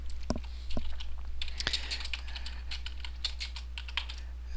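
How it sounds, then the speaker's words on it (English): Text being typed on a computer keyboard, a run of crisp, irregular key clicks with a few louder taps, close and alone, no talking. "now I will type in some text"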